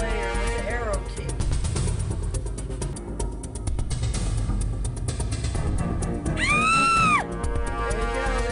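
A synthesized scream effect from a Flash video game rises and falls in pitch, sounding once briefly near the start and again more loudly late on, over looping game music.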